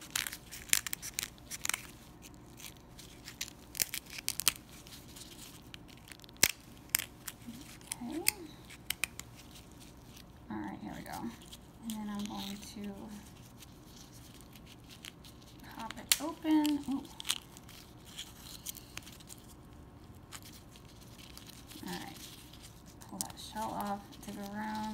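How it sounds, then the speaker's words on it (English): Scissors snipping around the lip of an Akoya oyster while opening it for a pearl, a series of close, crisp cuts and crunches, with quiet voices talking intermittently in the background. "Just going to use scissors and cut around the oyster lip."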